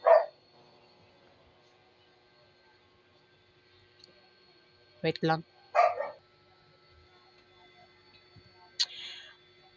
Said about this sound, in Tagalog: Ang dami kasing aso kumakahol.